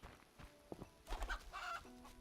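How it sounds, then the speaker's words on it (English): Chickens cluck softly in The Witcher, a few faint, short calls scattered across a quiet moment. "Or just become distracted by the chickens."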